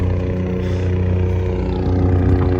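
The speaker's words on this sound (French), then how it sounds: "Petit hélico, les gars. Alors, l'hélico qui arrive." Helicopter arriving near a parked, tuned BMW M235i, its rotor and engine making a steady, loud droning whir with a low rumble that holds throughout.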